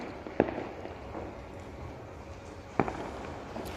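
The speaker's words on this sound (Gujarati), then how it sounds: "ફટાકડાઓ ફૂટી રહ્યા છે." Fireworks and firecrackers bursting during a citywide celebration in Junagadh, with two sharp loud cracks standing out over a steady background rumble and distant pops.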